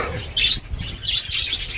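Young budgerigar chicks chirp in bright, rapid bursts, two clusters of twittering close by with faint low rustling beneath.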